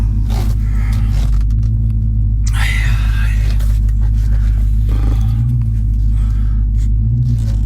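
A Jeep idles and creeps forward inside a shop with a deep, steady engine rumble that stays loud and close throughout. Faint scrapes and rustles come through above it.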